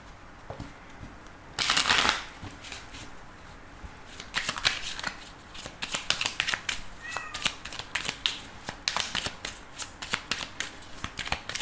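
A deck of oracle cards is shuffled by hand for a tarot-style reading, with a loud riffle burst near the start followed by a run of lighter, irregular card slaps and flicks close by.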